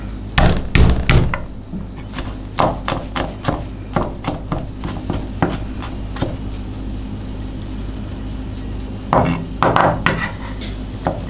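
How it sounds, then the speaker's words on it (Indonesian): Garlic cloves smashed with a blade or pestle on a board for cooking, a cluster of sharp close thuds, then scattered single knocks, and a final burst of heavy strikes near the end. "Kita geprek."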